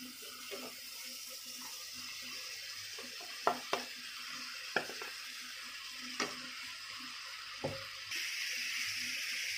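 Cut cucumber pieces frying in a pan for cucumber palya, giving a soft, quiet sizzling hiss broken by a few sharp clicks of stirring against the pan, with no one speaking.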